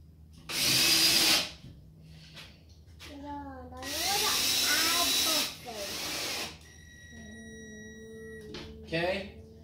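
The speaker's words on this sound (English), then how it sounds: "We're going to start with the drill in anchors." A power drill whirs in short loud bursts while driving anchors into a wall, spinning up and down, with pauses and a voice speaking between the runs.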